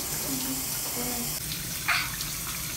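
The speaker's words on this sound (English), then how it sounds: "Giving her a shower after two months." Shower water runs steadily while a small child is bathed and has her hair washed at home, a continuous broadband spray with a brief splashy burst near the end and faint voices in the background.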